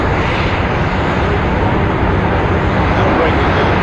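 British Airways Concorde supersonic jet touching down in Rhode Island in 1988: a loud, continuous broadband engine roar fills the scene at close range, with a crowd and voices mixed underneath.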